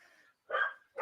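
Dogs outside in bad weather give a few short barks, two or three quick yips close together, fairly faint, with no talking.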